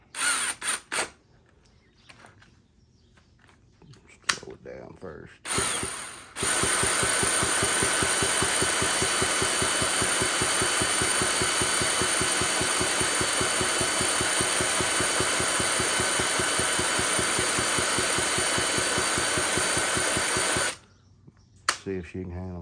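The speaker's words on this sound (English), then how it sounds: "Let me get my drill, we'll chuck it up right there and make her spin." A power drill spins a seized Stihl MS170 chainsaw engine over in one long, loud, steady whir lasting about fifteen seconds, with brief speech and clunks before and after.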